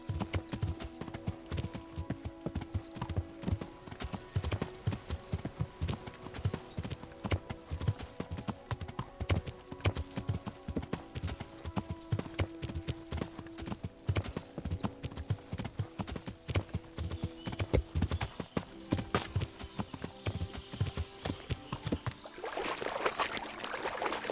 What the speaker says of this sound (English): now call my horse